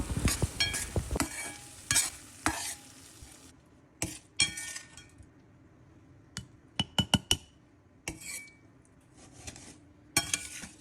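A spoon stirs cooked brinjal and tomato pieces in a pan for chutney, with repeated scraping and sharp clinks of metal against the pan over a low sizzle, close and fairly loud.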